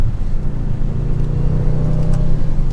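Inside an ABT-tuned Audi RS7-R, the engine holds a loud, steady low rumble that builds slightly as the car accelerates, with no talking.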